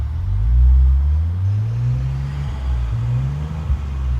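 Maserati Levante engine revving to about 3,000 RPM in sports mode with the car lowered, a deep rumbling rise that holds, dips and climbs again, close and loud with no talk.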